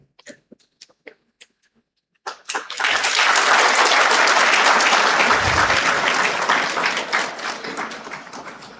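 A few scattered taps and coughs give way to loud, sustained applause from a large audience at an HR leadership summit, the clapping swelling and holding for several seconds before thinning out near the end.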